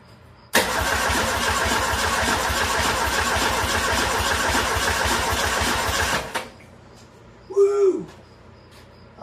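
A Ford Pinto engine cranks with rapid rhythmic starter pulses for several seconds, loud and close, then stops abruptly; a short whoop-like voice follows.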